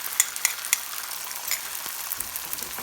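An egg hits a hot skillet with red peppers and green onion, giving a constant close sizzle with three quick clicks at the start and light scraping after.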